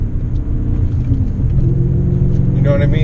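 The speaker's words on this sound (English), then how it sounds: "I just downshifted, was at 6th, 5th, 4th." A car engine revs up to match rpm during quick downshifts from sixth through fifth to fourth gear, a steady rumbling drone whose pitch climbs toward the end.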